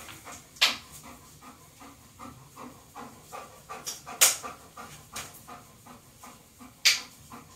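An old dog pants steadily and rapidly at close range, a regular rhythm of breathy puffs with a few sharper clicks and bumps scattered through.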